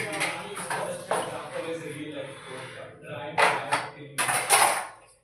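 Dishes clatter and scrape as they are scrubbed and washed in a bathroom, with metallic clinks and knocks coming in uneven bursts near the mic under someone talking.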